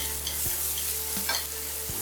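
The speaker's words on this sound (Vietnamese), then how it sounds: "Bắt chảo lên, cho xíu dầu vào, thêm hành tỏi băm nhuyễn vào, đảo đều cho đến khi thơm" Oil sizzles steadily in a pan as minced shallot and garlic are stir-fried, while a utensil scrapes and stirs a few times; no talking.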